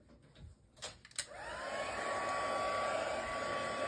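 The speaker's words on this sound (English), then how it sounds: "I'll get my heat emboss" A heat embossing tool switches on and blows a steady, loud stream of hot air with a constant whine, used to melt embossing powder on a stamped card; a few clicks and handling noises come first.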